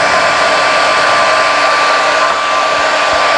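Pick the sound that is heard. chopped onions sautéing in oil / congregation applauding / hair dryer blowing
hair dryer blowing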